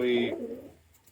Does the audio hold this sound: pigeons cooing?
yes